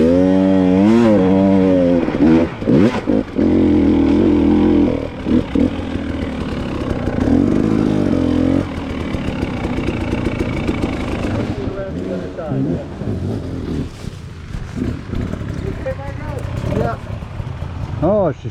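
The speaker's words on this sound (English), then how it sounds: "listen to Steve's bike coming up the hill" A dirt bike engine revs hard climbing a hill at Durhamtown, a rising and falling mid-range buzz that runs loud through most of the stretch, with people talking over it at times.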